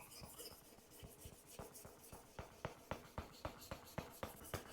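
Carving chisel being sharpened on a grit plate, a quiet scraping rasp whose regular strokes grow sharper and more rhythmic toward the end, heard alone.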